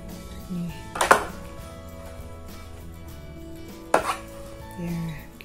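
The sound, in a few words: slapping and beating roti jala dough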